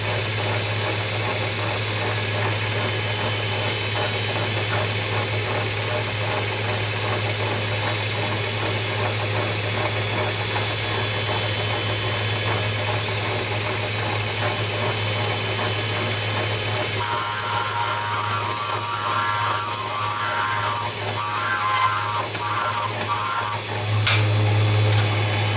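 A valve seat grinding stone runs on a VW cylinder head, giving a loud, steady power-tool whine with a low motor hum. The pitch changes partway through, then goes harsher and brighter with brief cut-outs as the stone contacts the seat.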